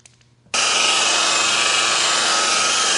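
A machine polisher running a synthetic blend wool pad over a car's paint starts abruptly and holds a steady, loud whirring drone at close range, with no talk over it.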